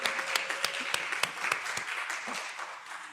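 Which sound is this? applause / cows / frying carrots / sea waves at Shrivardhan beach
applause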